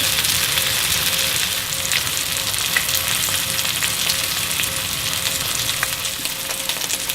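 A steak searing undisturbed in a hot pan, forming a crust on its underside, gives off a loud, dense, continuous sizzle with faint crackles and no voices.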